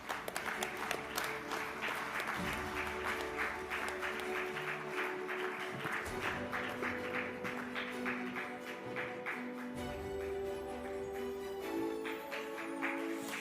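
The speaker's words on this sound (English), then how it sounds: "I think we should keep clapping." Audience applause for an honoree at the Forbes India W-Power 2026 awards ceremony, steady and sustained throughout, with musical tones running underneath the clapping.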